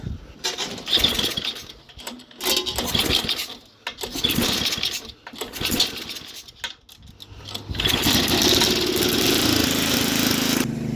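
A snowblower engine, choked at full throttle and heavily primed, sputters through several uneven bursts and then catches, settling into a loud, steady running drone close by.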